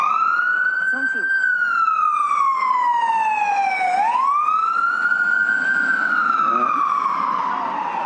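A wailing emergency vehicle siren, from fire brigade or ambulance, at a Canada Day event in hot weather, sweeping up and down in long continuous cycles, loud and steady over the whole stretch with faint background voices.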